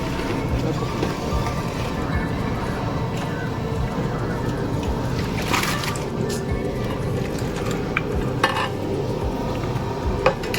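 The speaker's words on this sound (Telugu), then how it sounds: "చేప ముక్కలు వేసిన తర్వాత మాత్రం ఒక్కసారి తిప్పండి" Fish pieces go into a simmering Godavari-style fish pulusu curry and get stirred, with a steady bubbling, sloshing simmer and occasional scrapes of the spoon, while a person talks over the cooking.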